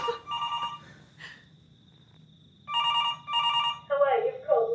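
A landline telephone rings in a film scene, sounding in repeated bursts of bright electronic trills with quiet gaps between them, and a voice speaks briefly near the end.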